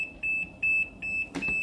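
Panda compact portable washing machine beeping once it finishes filling, a steady string of short, high, even electronic beeps repeating in rhythm, close and clear over faint background noise.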